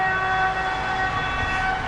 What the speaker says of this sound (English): we're waiting for a train to take us down to Otwock